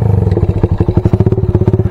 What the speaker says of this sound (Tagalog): Konting pitik-pitik nyo lang, pumapasok agad yung throttle, umaangat agad yung plunger ng carb.